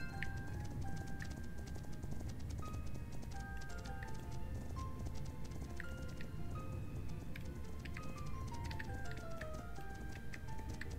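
Horse hooves in the video game Ropin' Ranch Horse Life, soft irregular clip-clop footfalls at moderate distance under a faint bed of game music with scattered melodic tones.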